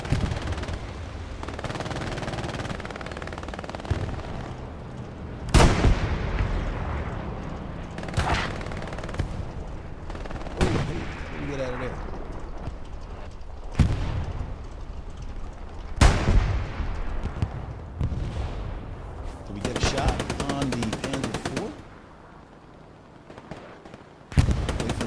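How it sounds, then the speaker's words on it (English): Anti-tank gun blowing up in the video game Hell Let Loose, heavy booming blasts amid repeated sharp gunfire cracks and explosions, several loud bursts spread through the battle noise. "that was AT gun blowing up like it was a damn tank with all the fuel in it"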